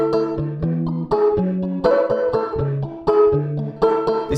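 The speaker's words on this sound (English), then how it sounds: "I've just added gated with a preset called Carpet Guitars." Electric guitar run through a gated reverb on the Carpet Guitars preset: picked melodic notes in a steady rhythm, each wrapped in a short, dense room tail that cuts off abruptly, with no other sounds.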